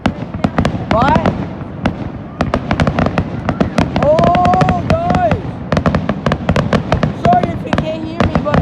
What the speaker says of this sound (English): Sorry if you can't hear me, but the fireworks are pretty loud.